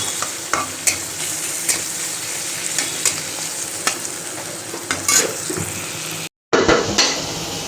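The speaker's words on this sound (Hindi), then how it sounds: "मटर प्याज और शिमला मिर्च फ्राई करके बना लूँगा फ्राइड राइस" Peas, onion and capsicum frying in a pan for simple fried rice: loud continuous sizzle with spatula stirs and scrapes against the pan, broken by a brief silent gap near the end.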